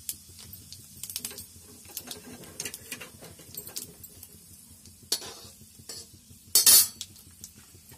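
Brinjal tempered with panch phoron in a hot pan, a steady low sizzle with scattered crackling pops and clinks of stirring, fairly quiet and close, with no talk.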